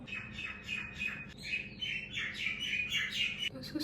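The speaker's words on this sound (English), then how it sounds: "The birds are chirping." Birds chirp and squawk nearby in a busy, continuous chorus of bright overlapping calls, with no voices and only a faint background hum.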